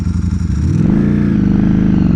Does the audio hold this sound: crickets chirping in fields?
no